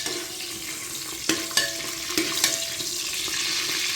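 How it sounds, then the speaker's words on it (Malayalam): Whole spices sizzling in oil that is not yet fully hot, stirred in a pan for tomato rice, a soft continuous frying hiss broken by a handful of sharp scraping clicks from the spoon. "സ്പൈസസ് നല്ലപോലെ ഒന്ന് ഇളക്കാം"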